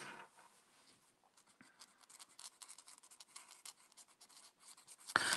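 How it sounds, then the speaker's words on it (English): A pen scribbling back and forth on a sheet of paper, a close, continuous scratchy rasp in uneven strokes that rises and falls, ending in a sudden loud burst. "So sometimes you have to scribble it off on another sheet of paper."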